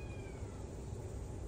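A large, apparently healthy cat found near a school dormitory meows faintly against a steady, noisy outdoor background, with no talking over it.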